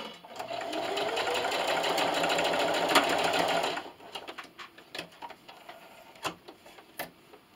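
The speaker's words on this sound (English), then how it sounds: "so I sewed all the way around, leaving my opening open" Sewing machine running steadily with a continuous whirring stitch sound while sewing fabric for a keyboard wrist rest, stopping partway, followed by scattered light clicks and handling noises.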